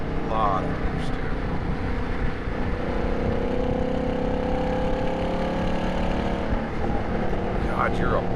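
Ford Mustang GT engine while driving on the road, a steady mid-pitched drone with road and wind noise, heard from inside the cabin as someone talks over it.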